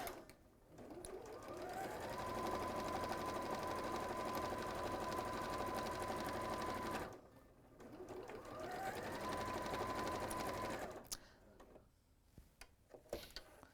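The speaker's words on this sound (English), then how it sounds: "I'm merrily sewing away." A sewing machine stitches through very thick wool tweed in two long steady runs with a brief pause between them, a close, even mechanical whir with a sustained hum, then stops and a few light clicks follow.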